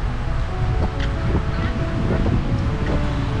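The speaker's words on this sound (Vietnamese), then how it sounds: "có nghe được cái tiếng gió trong micro hay không, nhưng mà gió bây giờ cũng khá là mạnh" Strong wind by the Perfume River in Hue buffets the microphone, making a continuous low rumbling roar with gusty swells, loud and close.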